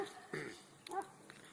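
Wild dogs in Turkey give a few short yips and whimpers, faint and sporadic, with a muffled voice nearby.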